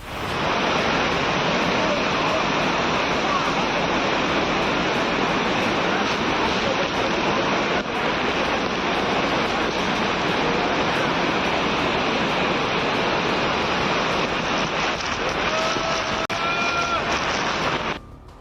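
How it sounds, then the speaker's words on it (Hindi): Flooded river in Uttar Pradesh, India, swollen after heavy monsoon rain, a loud continuous roar of rushing water filling the whole stretch, with faint voices briefly near the end. "उत्तर प्रदेश में भी जमकर बरसात हो रही, जिसकी वजह से नदी नाले यहां भी उफान पर आ गए।"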